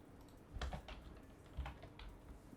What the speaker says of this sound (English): can hit Control-I on the keyboard